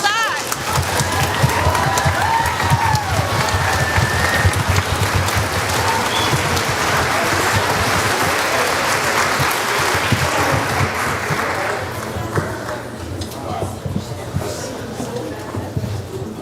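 A concert audience gives sustained applause after an orchestra performance, a loud, dense wash of many hands clapping that continues throughout and gradually thins toward the end, with voices mixed in.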